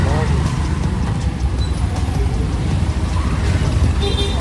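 Steady roar of road traffic with engines rumbling continuously throughout, dense and close, with faint voices mixed in.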